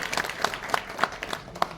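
Applause from the audience at a union convention in Jamui, greeting the assembled members: scattered, uneven handclaps with a few sharper individual claps standing out over a thin, moderate background.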